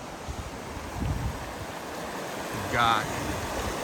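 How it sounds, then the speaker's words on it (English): Panther Creek flows in a steady broadband rush near a campground and falls, with some wind buffeting the microphone and a brief spoken phrase near the start. "wow, a really beautiful section of Panther Creek."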